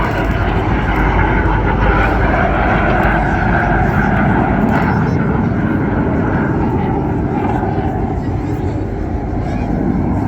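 Red Arrows jets roar loudly and continuously overhead during barrel rolls at the Blackpool airshow, the engine noise constant and heavy, with a commentator speaking over it.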